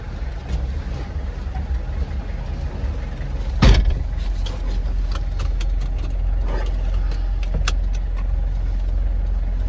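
A car engine runs steadily in a driving-lesson setting, a close continuous low rumble with a brief louder thump partway through and some faint clicks.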